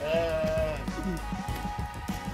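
Goats on a farm at Sweihan, UAE: one nearby goat gives a single wavering bleat at the start, followed by softer shuffling and a voice speaking.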